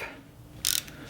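A torque wrench tightens a bolt on a BMW G 650 GS motorcycle to 40 Newton meters, giving one short, sharp ratchet click at close range in an otherwise quiet moment.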